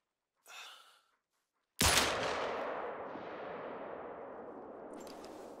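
Rifle shot at an animal in the hunting game theHunter Call of the Wild, a single sharp loud report followed by a long echoing tail through the forest, preceded by a brief soft breath.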